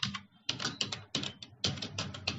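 Bursts of rapid clicky keystrokes on a computer keyboard during typing practice in a Tamil/English typing application, coming in quick clusters with short pauses, close and fairly quiet.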